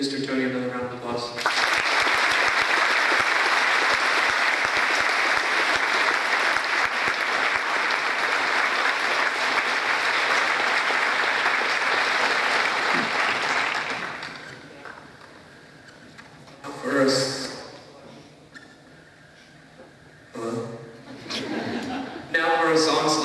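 Sustained applause from a high school audience at a Veterans Day assembly, loud and steady for about fourteen seconds, then fading out before a few voices and a brief stir close out the quiet remainder.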